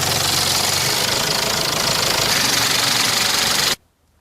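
A vehicle engine runs loud and close at a steady idle with a rough knocking rumble for nearly four seconds, then cuts off sharply into silence.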